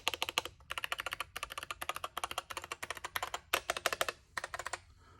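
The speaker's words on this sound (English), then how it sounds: "it sounds like a linear switch, and everybody loves to talk about how loud the spacebar is" Typing on a Keychron V8 mechanical keyboard with linear switches: quick, close clacking keystrokes in uneven bursts with short pauses, heard alone without talk.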